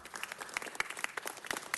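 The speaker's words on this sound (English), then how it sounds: "Let's give them another big round of applause." Audience applause at a council meeting, a burst of many hands clapping at close range with irregular sharp claps standing out.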